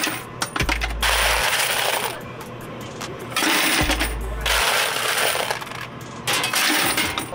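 Coins pour in loud metallic cascades into a claw machine's coin box while it is being loaded, three long clattering bursts separated by short pauses, close up and with no talking.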